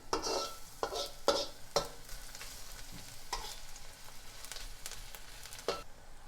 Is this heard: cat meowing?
no